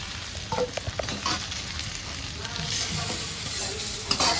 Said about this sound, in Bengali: এই যে আমার আলু ভাজা হয়ে গেছে